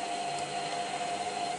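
A washing machine pumps out soapy, bubbly water in a steady, close whirring drone with a constant tonal hum, unbroken and without talk.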